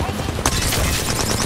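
Rapid automatic gunfire crackles through an Apex Legends fight, a dense, continuous burst of shots at close range with no clear gaps.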